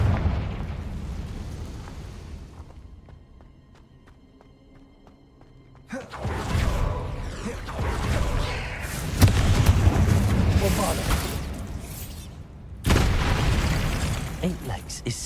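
Fire spells blast in Hogwarts Legacy: after a quieter rumbling stretch, several heavy booming explosions hit in sequence with crackling debris and lingering roar, loud and close, with a spoken incantation among them.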